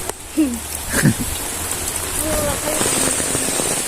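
Steady rain falls outside on a day of constant rain, a close, dense wash of patter, with a couple of brief voice sounds near the start.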